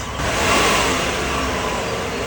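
A car engine revs up loudly, rising to a roar that holds steady and dense for a couple of seconds before easing slightly.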